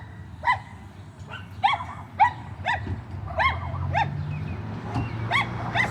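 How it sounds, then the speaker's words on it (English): A small dog yaps repeatedly in short, high, sharp barks at an irregular pace, fairly close, over a low rumble of traffic. "he's a little yapper dog."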